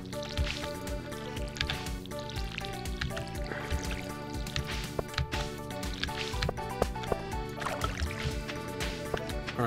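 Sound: watering can watering crops in the video game Stardew Valley

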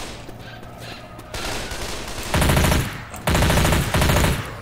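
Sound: MP5 gunfire in the video game Left 4 Dead 2

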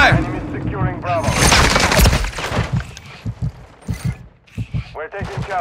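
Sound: gunfire in video game Call of Duty Modern Warfare III

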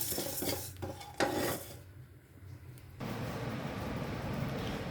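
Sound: stirring cooked rice in a pot to cool it

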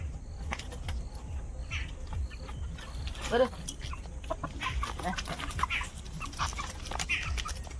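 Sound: chickens clucking

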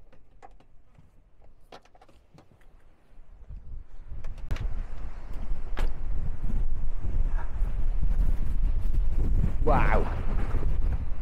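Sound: wind blowing on microphone

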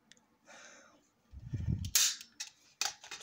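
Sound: gunshot sound effect

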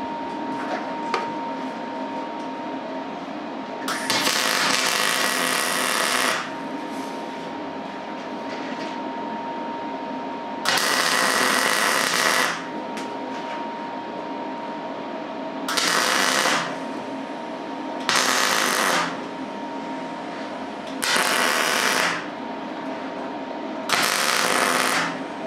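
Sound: welding metal for a fishing rod rest

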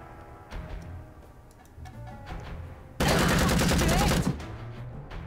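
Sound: gunfire in the Empire of Sin video game

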